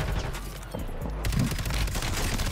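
Rapid automatic gunfire and booming shots from a Call of Duty battle on Rebirth Island, loud and dense, with bursts overlapping and rumbling low impacts throughout.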